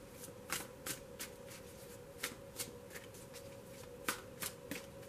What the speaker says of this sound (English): Then I'm only going to shuffle for a moment.